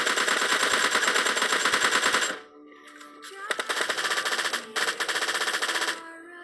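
Sustained automatic gunfire from a PUBG Mobile Lite fight, loud rapid bursts with a short pause partway before firing resumes in two more bursts.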